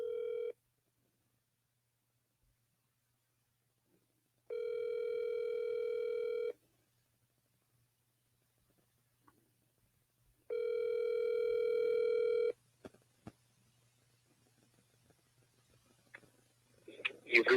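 A phone call's ringback tone sounds in three long, steady two-second buzzes separated by silence, fairly faint, followed by scattered clicks and rustling as the call goes unanswered.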